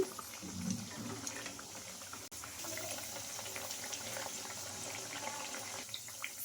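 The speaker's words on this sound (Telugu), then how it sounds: "ఇంకా ఇలా తిప్పుకుంటూ రెండు వైపులా బాగా ఫ్రై చేసుకోవాలండి" Peanut and moong dal fritters fry in a pan with a steady, broadband hiss of bubbling oil, moderately close and continuous, with one brief click partway through.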